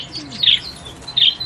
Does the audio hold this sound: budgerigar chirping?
yes